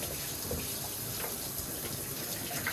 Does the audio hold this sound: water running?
yes